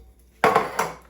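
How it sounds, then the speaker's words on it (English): Diced tomatoes drop into a cooking pot with a single wet splat and clatter, then a smaller second impact, close and moderately loud in a quiet kitchen. "Next, I'll drop my tomatoes, diced tomatoes in."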